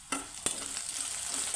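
Sliced onions fry in a pan with a steady close sizzle, broken by a couple of sharp spatula knocks and stirring scrapes.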